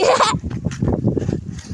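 Goats bleat in a short, loud burst at the start, followed by low shuffling and rustling from the animals nearby.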